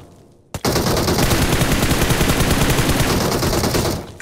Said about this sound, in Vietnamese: mình lấy shotgun mình bắn này